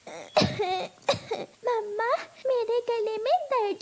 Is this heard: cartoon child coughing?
yes